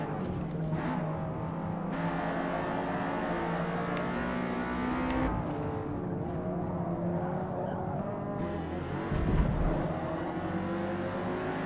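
A Mercedes 190E Evolution II racing engine drones steadily in Forza Motorsport, its pitch rising and falling through gear changes across the lap, with a few engine notes from other cars mixed in and someone talking at times.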